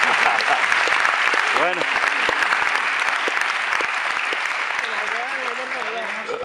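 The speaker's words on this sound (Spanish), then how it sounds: "un auditorio completamente lobotomizado que aplaude la ocurrencia de un científico" An auditorium audience applauding, a dense, loud wash of clapping that runs throughout, with a voice speaking briefly over it.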